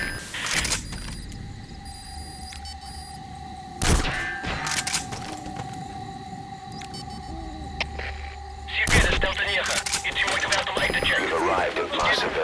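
Gunfire in the PS5 game Metal Gear Solid V: The Phantom Pain, a few sharp, loud shots and thuds spaced across a steady electronic hum and engine-like drone, with bursts growing denser near the end.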